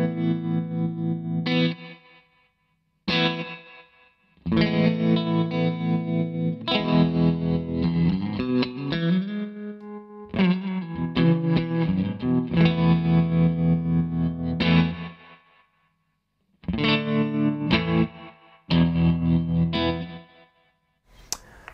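Electric guitar run through a Shapeshifter tremolo pedal together with reverb, playing distorted chords in bursts separated by silences, with a pulsing, wavering tremolo and lingering ambient tails.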